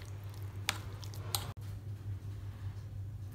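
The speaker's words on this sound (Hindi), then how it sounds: "चिकन डालूंगी और अच्छी तरह मिक्स कर" Chicken filling with green onion being mixed by hand in a bowl, giving soft, faint squelching and a couple of brief wet clicks over a low steady hum, no talk.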